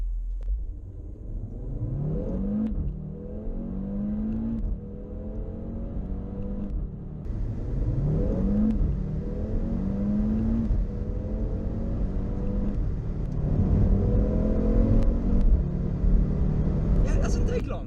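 A 400 bhp Audi RS3 in dynamic sport mode pulls hard from a standstill. Its loud engine note rises repeatedly through several gear changes, each shift marked by a drop and a fresh climb, and a voice speaks over it.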